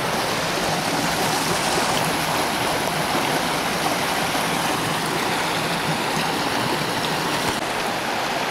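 River stream rushing steadily and loudly at the bottom of a mountain valley, a continuous broadband wash of flowing water with no voices.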